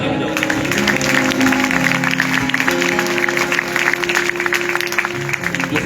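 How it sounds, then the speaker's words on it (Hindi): Congregation clapping along at a live worship service in Faisalabad, a dense, steady patter of many hands over sustained music and singing, loud and continuous throughout. "हालेलुया, सारे ताली बजाओ"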